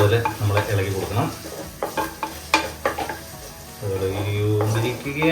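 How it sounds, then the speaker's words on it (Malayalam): Food fries in a clay pot for a fish curry while a spoon stirs it, giving a steady close sizzle broken by irregular scraping knocks against the pot. "നന്നായിട്ട് വഴണ്ട് വരുന്നത് പോലെ നമ്മൾ ഇളക്കി കൊടുക്കണം."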